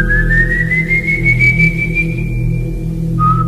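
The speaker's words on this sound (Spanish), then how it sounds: "hasta que volvió a sonar el silbido" A single sustained whistle, a long tone gliding slowly upward and holding steady, then a brief lower note at the end, over a low constant hum.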